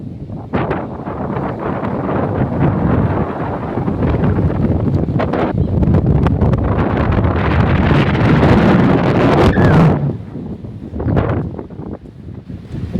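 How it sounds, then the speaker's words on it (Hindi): Strong wind on a hilltop buffets the microphone in loud, sustained gusts with low rumbling, easing off briefly near the end before picking up again, near Jalna, India. "यहाँ पर हवा बहुत तेज़ है"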